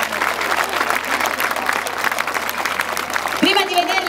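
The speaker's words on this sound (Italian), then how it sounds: "Accogliamoli con un grande applauso" Spectators at the Sorrento International Folklore Festival applaud loudly to welcome a folk dance group, sustained crowd clapping, with a voice and a brief tonal sound near the end.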